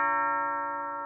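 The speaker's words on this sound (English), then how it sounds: "Let me go get that doorbell." A doorbell chimes once, a clear sustained ringing tone with several bright overtones that slowly fades, heard alone and fairly close.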